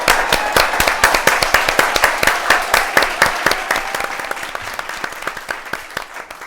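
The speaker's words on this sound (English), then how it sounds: "Let's give her a round of applause." A studio audience claps loudly to welcome a guest to the stage, with sharp, fast individual claps forming a steady round that slowly fades over several seconds.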